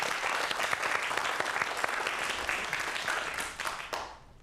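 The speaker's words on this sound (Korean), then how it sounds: "박수 부탁드릴게요." Steady audience applause for a science-and-magic lecture fills the hall, loud and continuous for about four seconds before tapering off at the end.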